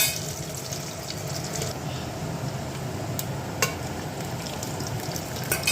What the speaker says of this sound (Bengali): চলো পেঁয়াজটা ভেজে নিয়ে আমি মশলা দেব